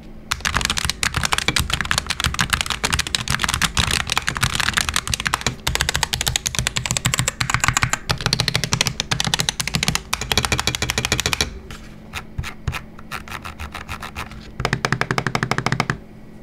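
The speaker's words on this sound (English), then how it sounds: "The noiseless keyboard is definitely on the louder end. So let's go ahead and drop a sound test." Rapid, dense clacking of a DAREU EK75RT mechanical keyboard typed continuously, close and loud, with a short lighter pause before the typing picks up again.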